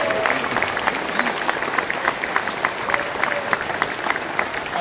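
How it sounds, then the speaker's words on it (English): Crowd at a men's meeting gives a round of applause, steady and fairly loud clapping from many hands with a few distinct sharper claps and faint voices mixed in. "can we give Zach Andrew and Kyle a round of applause"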